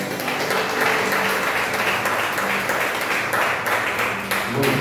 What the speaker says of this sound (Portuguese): Vamos aplaudir Ele bem forte.